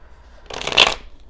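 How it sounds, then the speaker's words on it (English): A deck of oracle cards is shuffled once, a brief close riffling burst of papery flutter lasting about half a second. "So I'm going to go ahead and shuffle again"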